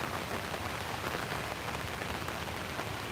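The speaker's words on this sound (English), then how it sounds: "As y'all can hear, the rain has let up." Rain falls on surfaces at a trackside overlook during a stormy day, making a steady, even patter with no pauses and no voices.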